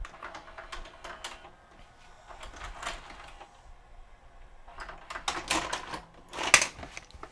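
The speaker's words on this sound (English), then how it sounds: "And a 2-hour tape going in." A Sony SLV-N60 VHS VCR takes in a 2-hour tape, giving off a series of clicks, whirs and mechanical clatter from the loading mechanism, closest and loudest toward the end.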